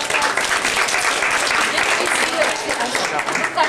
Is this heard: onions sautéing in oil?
no